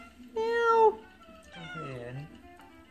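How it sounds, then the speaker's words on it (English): A farm cat gives two clear, drawn-out meows, the first louder and higher, the second lower and wavering, with faint background sound between them. "Okay, meow. Meow."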